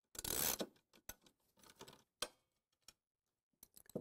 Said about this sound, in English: loosen the four nuts that hold the arm onto the reel and remove them